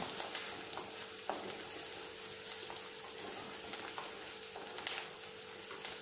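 Curry leaves fry in oil in a pan for vendakkai puli kuzhambu, giving a steady close sizzle and crackle with scattered light taps and scrapes from stirring, with no talk.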